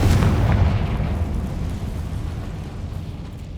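A Confringo fire spell explodes in Hogwarts Legacy with a deep, loud booming blast that rumbles and slowly fades away over a few seconds, with no talking.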